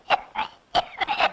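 Four short, harsh coughs in an uneven pattern, each a loud broadband burst with brief pauses between them, close to the listener, during a Tamil comedy scene.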